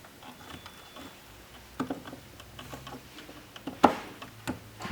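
A small screw set on a Gene Cafe CBR-101 coffee roaster's left damper bracket clicks into place, giving a few faint, sharp ticks, the clearest near the end, with light handling noise around them in a quiet room.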